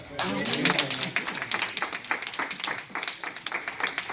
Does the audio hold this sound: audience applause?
yes